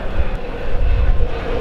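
An airplane flies overhead, a loud, low, rumbling roar filling the short stretch with no voices over it.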